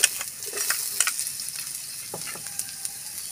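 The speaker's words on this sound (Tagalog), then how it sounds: "magigisa na po tayo ng bawang" Garlic sautéing in a pan after eggs were fried in it, for kangkong in oyster sauce, a steady soft sizzle with scattered clinks and stirring scrapes.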